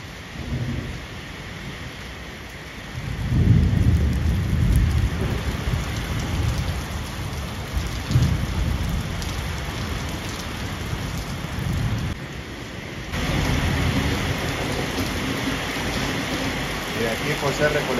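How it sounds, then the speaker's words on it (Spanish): Steady heavy rain pours down with low rumbles of thunder rolling underneath, the downpour swelling louder partway through. "se escucha que viene más fuerte la lluvia"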